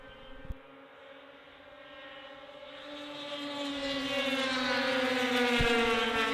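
Engines of racing snowmobiles at a Canadian power toboggan championship drone steadily and grow louder as they approach, a sustained high whine from mid-distance.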